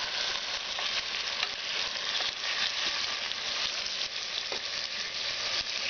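Chicken pulao sizzles over a medium flame while it is gently folded in a pan, a continuous soft frying hiss with light, irregular scrapes from the stirring spoon. No voices.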